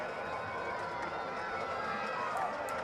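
A high school football crowd from Connetquot roars loudly at a night playoff game after a touchdown, a dense, steady wash of cheering and voices close in front, filling the whole stretch without a break.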